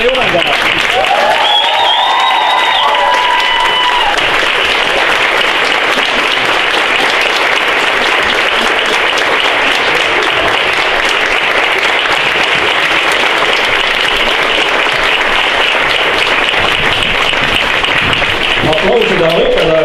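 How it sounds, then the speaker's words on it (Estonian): An audience at a school folk dance show in a museum applauds: dense, steady clapping carries on for about twenty seconds at full loudness, with a faint voice briefly audible near the start. "Aplausida õpetajate poolest"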